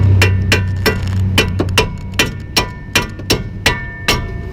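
A hammer strikes a strut bolt on a 2004-2007 Chevy Malibu during front strut replacement, with about a dozen loud, sharp metallic blows in an uneven rhythm over a low background hum.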